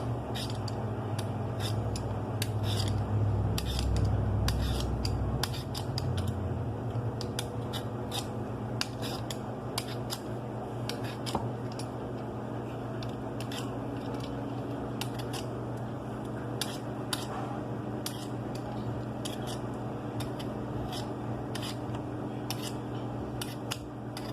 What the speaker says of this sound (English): we're gonna just take our peeler and we're gonna peel the potatoes